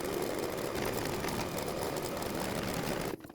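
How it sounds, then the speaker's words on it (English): An embroidery machine runs the placement line for batting on an in-the-hoop pillow, a steady, close mechanical whir and rapid stitching hum that stops abruptly near the end. "So I'm ready to go ahead and run the first stitch, which is going to be the placement line for my batting."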